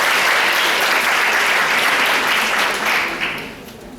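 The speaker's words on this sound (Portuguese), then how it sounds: "Uma salva de palmas para essa pessoa." Dense audience applause at an event on bullying and suicide prevention, a loud continuous clapping crowd that holds steady for a few seconds before tapering off toward the end.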